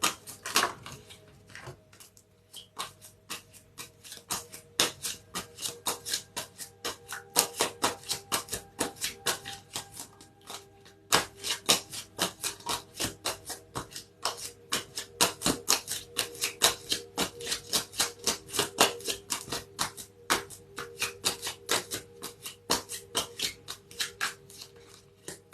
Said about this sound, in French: j'essaie de trouver une position pour qu'on n'entende pas trop les cartes